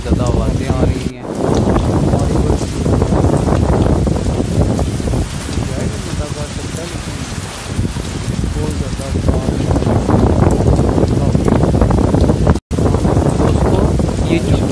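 Driving rain and fierce wind sweep across the docks in a steady, roaring wash of noise, gusts pounding the microphone with one abrupt cut near the end.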